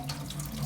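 Water runs steadily from a broken sink faucet, a constant close hiss with no voices over it.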